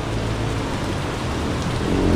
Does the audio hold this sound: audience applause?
no